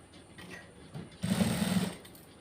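A sewing machine runs in one short, fairly loud burst, stitching blouse fabric for a prince-cut back-open blouse after a few quiet moments.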